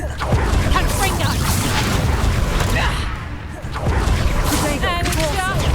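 Confringo blast spell going off in Hogwarts Legacy, a loud booming explosion with crackling debris that fills the scene, dipping briefly before more blasts, with a character's voice shouting over it.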